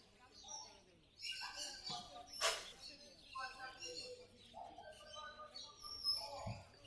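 Busy din at the Garia bird market with chirps and tweets from caged finches, including owl finches, and conures, mixed with nearby talk and general crowd noise.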